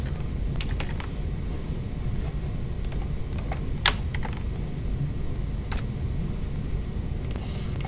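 Keystrokes on a computer keyboard while entering details into an online account registration form, heard as sparse, scattered clicks over a steady, noisy background.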